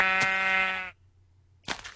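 A single sheep in the Minecraft video game lets out a long, clear bleat, followed by a short pause and the start of another bleat, with no talking.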